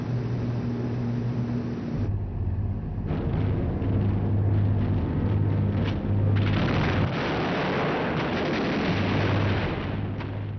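Sustained rumbling bombardment during a British bombing raid on wartime Berlin, with heavy low booms and crackling gunfire layered into a dense, continuous roar that swells louder midway and stays loud to the end.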